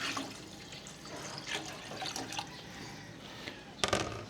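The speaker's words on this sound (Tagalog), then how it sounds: "Pwede na natin lagyan ng tubig." Water is poured into a pot of cooked tomatoes for a pompano fish soup, a soft, steady splashing trickle close by that ends in a brief louder splash.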